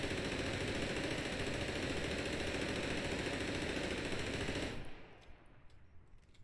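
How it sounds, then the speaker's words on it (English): Rapid automatic machine gun fire in the video game APB Reloaded, a loud dense continuous burst lasting several seconds before cutting off abruptly, leaving faint background noise. "That was all 80 rounds in less than 30 seconds. So, yeah, this gun shoots really fast, really quick"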